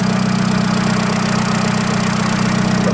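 A 2007 Seat Ibiza 1.4 petrol engine idles steadily up close, a loud, even low hum with a faint rhythmic tick and no voices.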